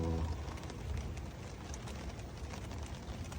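Rain falls steadily in a forest, a constant close hiss of drops on leaves and surfaces throughout, with no talk.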